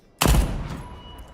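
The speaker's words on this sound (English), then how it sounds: "I love the sound of this gun. That gunshot is so powerful." A single powerful gunshot from a gun in the game Deathloop: a loud, sharp blast followed by a long ringing tail that fades slowly, with no voices.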